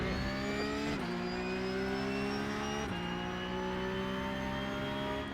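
A race car engine in a racing video game drones loudly and steadily, with a couple of brief dips in pitch where the engine lifts, then climbs again.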